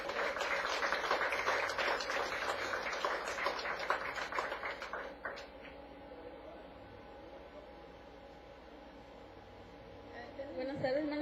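A church congregation claps together in a dense burst of applause that carries for about five seconds, then dies away into a quieter room murmur, with a faint swell rising again near the end.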